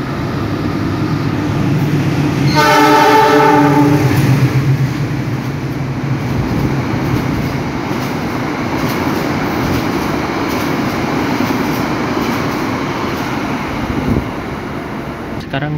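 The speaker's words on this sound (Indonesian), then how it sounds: "akan menunggu kereta api Argo Wilis lewat di jalur 3 nih harusnya" The Argo Wilis train passes on track 3 at Gombong station, heard from a waiting Lodaya train: a loud horn blast sounds near the start, then a long, steady rumble of rolling carriages.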